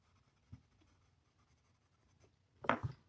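A 6B graphite pencil shading cherries on paper makes faint, close scratchy strokes, a soft tap early on and a louder rasping burst near the end.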